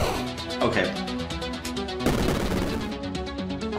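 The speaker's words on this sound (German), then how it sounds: "So, ich schieße jetzt nur noch, wenn es nötig ist." Gunshots in the video game PokeCat ring out in quick repeated bursts over loud music, with a denser volley partway through and a voice talking over it.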